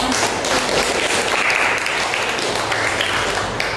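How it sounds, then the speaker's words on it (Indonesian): A crowd claps steadily for a few seconds, dense and fairly loud, with no pauses. "Ya, benar sekali, tepuk tangan."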